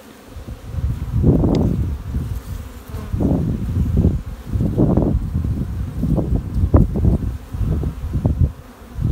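Honey bees buzz close by around open hive frames of honey and brood, in a steady, swelling drone that rises and falls in waves, with faint rustling in the background.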